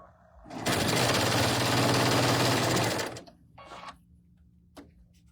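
A sewing machine runs in one continuous, loud, fast-pulsing burst of about two and a half seconds while stitching a Rocky Mountain Sampler quilt block. Quieter handling noises follow.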